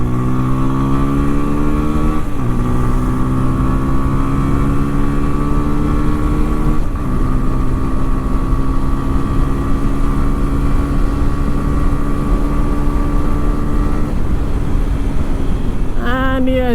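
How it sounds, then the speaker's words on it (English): A TVS Apache RTR 160 4V motorcycle in sport mode runs loud and close on an open highway, its engine drone climbing steadily in pitch through the gears with brief dips at gear changes under constant wind noise. "let's see how the all new TVS Apache RTR 160 performs"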